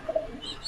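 Pigeons coo at a pigeon farm where breeding birds such as Lahore larks are kept, a short soft cooing phrase close by over a faint background hum.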